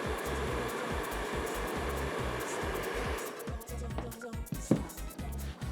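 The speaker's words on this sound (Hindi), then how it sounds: "ड्रायर को इस तरीके से ऊपर पकड़ें और इस तरीके से आप ब्रश को रोल करते जाएं" A handheld hair dryer blows continuously at close range while a round brush is rolled through a section of hair. The airflow hums steadily with a faint pulsing, and the pitch shifts briefly near the end.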